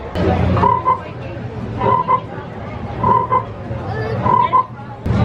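Frog croaking effect at the chocolate frog interactive wand spot in Hogsmeade, Wizarding World of Harry Potter: a loud, close ribbit-like croak repeating four times at an even, steady rhythm over a constant background hum.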